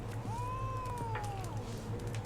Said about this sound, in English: I want to pet you, cat.